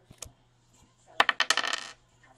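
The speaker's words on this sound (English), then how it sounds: "Let's do a dice roll." Dice clatter across a hard surface at a hockey card break, with a couple of light taps followed by a quick rattling burst of bounces that settles within about half a second.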